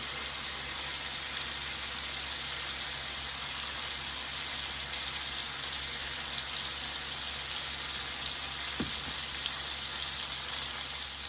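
Lamb chops searing in a hot pan, a dense, even hiss of frying fat that holds steady and close throughout with a few faint pops, no voices.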